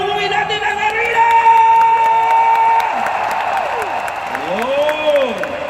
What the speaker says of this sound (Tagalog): Pwede ba pumalakpak ng napakalakas para umuwi natin ang arena?